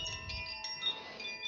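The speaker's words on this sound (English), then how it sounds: "just listen to the sound of the Koshi chime" A Koshi chime rings softly in a quiet meditation setting, its faint, sustained shimmering tones lingering alone throughout with gentle, airy resonance.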